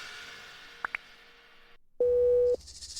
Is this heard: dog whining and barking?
no